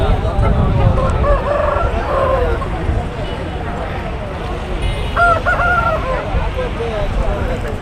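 A rooster crows twice nearby at a country-chicken market in Nallapadu, Guntur district, the calls standing out over a noisy outdoor background with people talking.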